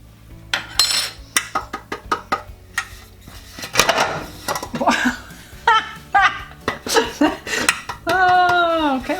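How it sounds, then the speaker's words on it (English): A pan dropped on a kitchen counter gives a sequence of clattering metallic knocks and rattles. Laughter and voices run through it, close and fairly loud. "I dropped my pan on the counter"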